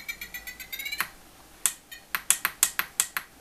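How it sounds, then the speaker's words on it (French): Trim adjustment on a Turnigy i6 RC transmitter gives a string of short, sharp electronic beeps, first a fast rising run of tones, then a brief pause and a steady series of clicky pips close up, with no talking. "si maintenant je vais changer ce trim là, donc c'est ça, si je le baisse, il y a un bruit"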